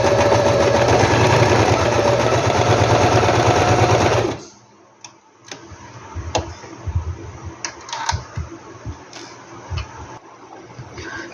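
A sewing machine stitches lining onto a crochet bikini, running in a loud, fast, steady whir for about four seconds, then stopping and giving way to quiet handling clicks and rustles.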